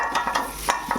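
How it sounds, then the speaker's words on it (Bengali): Potatoes fry in a pan, a steady close sizzle broken by a few soft scrapes and taps, with no voices. "এখানে আলুটা ভাজা হচ্ছে, প্রায় ভাজা হয়ে গেছে"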